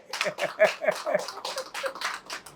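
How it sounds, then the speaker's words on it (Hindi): A small group claps for a doctor indoors, a modest burst of irregular hand claps, fairly close and crisp, tapering off unevenly over a couple of seconds with no talking over it. "ताली बजाओ जी इनके लिए जोर से"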